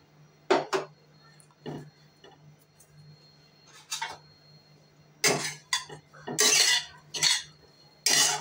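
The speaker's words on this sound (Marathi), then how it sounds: "आता इथे आपण एक वाटी सुखं खोबरं भाजून घेणार आहोत." Desiccated coconut dry-roasting in a pan, with intermittent clinks and scrapes of a spoon against metal, sparse at first and then coming in quicker bursts over a quiet low hum.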